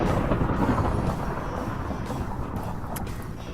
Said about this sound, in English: Is that blue lightning?